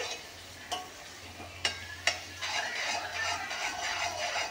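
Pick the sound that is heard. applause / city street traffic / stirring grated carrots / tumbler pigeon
stirring grated carrots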